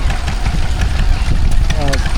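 A Wolseley WD8 stationary engine drives a water pump at a steam and craft fair, chugging steadily with a loud low rumble, and a voice briefly cuts in near the end.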